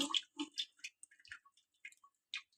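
Bael fruit sherbet pulp strains through a large strainer, giving sparse, close drips and small wet splashes separated by short silences.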